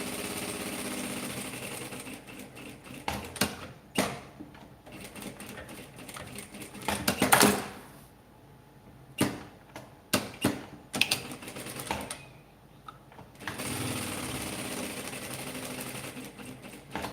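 A sewing machine runs in short stitching bursts with pauses between them, reinforcing the top edge of a small handbag made from fabric scraps, the mechanical whir close and clear.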